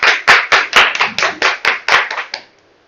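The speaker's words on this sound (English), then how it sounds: "Big round of applause." About a dozen sharp claps in quick, even succession at a Toastmasters club meeting, close and loud, tapering off and then stopping, with no voices over them.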